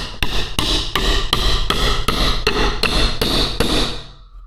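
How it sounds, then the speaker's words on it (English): Hammer blows drive a shim into a gap behind window trim on a holiday home build, nine sharp, evenly spaced whacks in steady rhythm, close and loud, with no talking. "A couple more smacks with the hammer."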